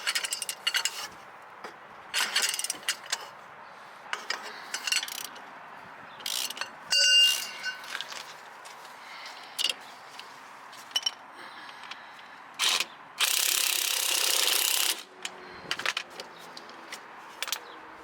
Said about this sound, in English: Use an 18mm socket to loosen the lower strut bolt.